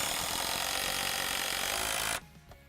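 A power drill drives a Spax Powerlag screw with a loud, steady whine that holds for about two seconds, then stops abruptly, leaving a faint tap.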